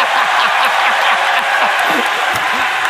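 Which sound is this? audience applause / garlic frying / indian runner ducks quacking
audience applause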